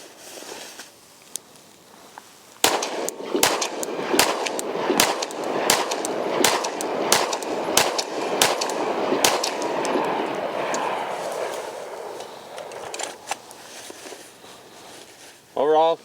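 Pistol shots from a customized SIG P365 at a shooting range: a string of about a dozen sharp, loud reports in a fairly quick, steady rhythm, then a few scattered shots, with faint voices before and after.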